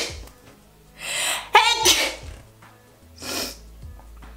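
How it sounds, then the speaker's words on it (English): A woman gives one loud, close sneeze with a sharp intake of breath before it, followed by a couple of quieter breathy exhales. "I'm gonna sneeze"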